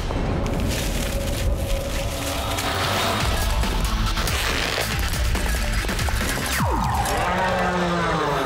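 A bull bellows loudly over a dense, crashing clatter of noise, the low groaning call rising and falling.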